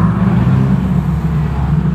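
A Nissan Fuga with a manual transmission conversion drives on a race track in Japan, its engine a loud, steady low rumble held close throughout.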